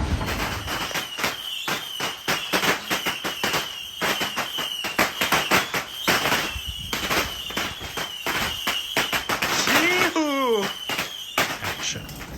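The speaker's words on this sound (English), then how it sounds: "Sorry for the fireworks, guys" New Year's Eve fireworks and firecrackers crackle and bang in dense bursts throughout, with a whistling rocket rising and falling near the end; voices can be heard faintly underneath.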